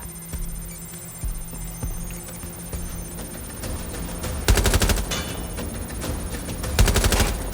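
Gunfire in the Watch Dogs video game: scattered single shots build into dense, rapid automatic bursts, loud and close, over a low background drone.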